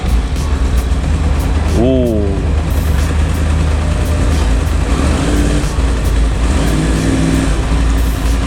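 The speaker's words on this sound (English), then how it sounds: "Crossplane inline 4 sounds so good, man." A Yamaha R9 supersport motorcycle with a crossplane inline-four engine drones loudly and steadily while being ridden, under heavy wind noise.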